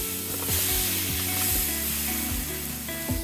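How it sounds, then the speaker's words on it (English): Steady sizzling and frying hiss from chicken and vegetables on a hot sheet pan, with a low hum and occasional clinks of utensils throughout. "You should be able to hear that sizzle a little bit."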